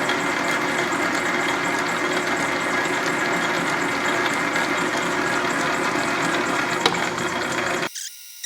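Sawmill engine running steadily with a dense, rattling drone and a loud, even mechanical hum for several seconds, then cutting out abruptly near the end.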